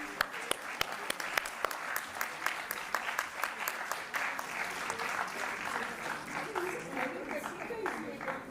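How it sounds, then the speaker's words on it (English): Applause from a conference audience starts with sharp individual claps and swells into a steady crowd clapping, while voices talk underneath and the clapping thins toward the end. "A big round of applause,"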